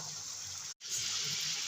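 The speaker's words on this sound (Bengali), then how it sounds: "আরও একটু জল দিয়ে দেবো।" Water poured into a cooking pot in a steady splashing gush, close and even, broken by one brief gap before the stream resumes a little louder, with no talking.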